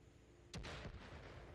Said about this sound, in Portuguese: é uma explosão muito alta